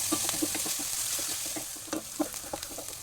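Green chili, finely chopped onions, salt and urad dal sauté in a pan, giving a bright steady sizzle with quick spatula scrapes and taps near the end.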